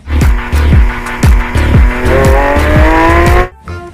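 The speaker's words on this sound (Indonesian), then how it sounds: "Wow, ini mobil balap Lamborghini." A toy Lamborghini race car gives off a loud electronic engine sound with rapid repeated bursts and a rising revving tone, cutting off abruptly near the end.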